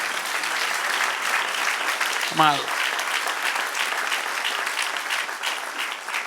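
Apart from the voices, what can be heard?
church congregation applauding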